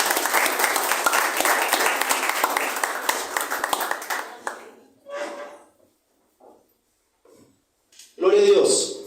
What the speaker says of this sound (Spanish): Dale un fuerte aplauso para Dios.